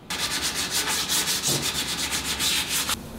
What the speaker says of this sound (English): Then I could do some sanding and rounding over all the edges